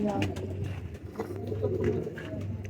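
Striped pigeons coo in low, repeated throaty tones close by, while someone talks over them.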